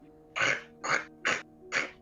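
A voice imitates a cat hacking up a hairball: four harsh, breathy retching bursts in a steady rhythm, close and fairly loud, with short pauses between them.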